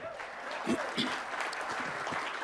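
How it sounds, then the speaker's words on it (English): A room of people clapping steadily, a light continuous patter of applause with a few voices mixed in. "we can give her another round of applause"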